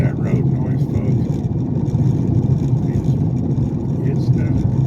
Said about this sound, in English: Sorry about that road noise